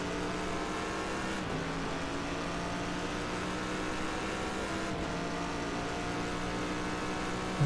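An Aston Martin race car in a racing video game holds a steady, loud high-revving engine drone, broken by two brief dips like quick gear changes.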